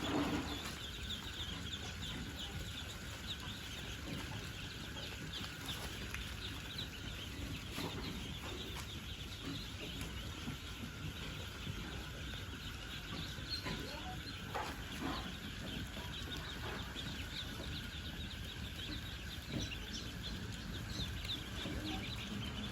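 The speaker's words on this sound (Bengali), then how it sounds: "আপনাদের আমি ভালোভাবে দেখাচ্ছি হাঁসগুলা এখানে দুই হাজার বাচ্চা আছে এখানে" A dense, steady chorus of about two thousand ducklings in a duck hatchery peeping and chirping all at once, with occasional louder calls and faint rustling.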